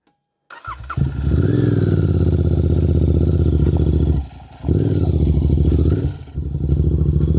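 A Royal Enfield Continental GT 650 motorcycle on a hill trail starts with a clatter and settles into a loud, close parallel-twin idle, broken by two short dips where the throttle eases before the steady thump resumes.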